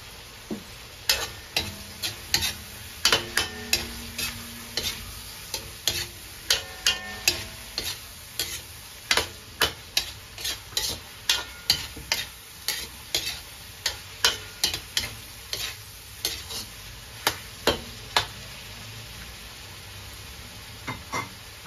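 Eggplant pieces sizzle and crackle in a hot pan for pinakbet, stirred with a spatula that scrapes and taps in frequent irregular clicks over a steady frying hiss.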